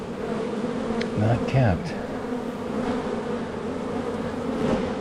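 Honeybees buzz in a dense, continuous drone during a hive inspection at the East Bee Hut, steady and close throughout, with a few brief louder passes of individual bees near the microphone.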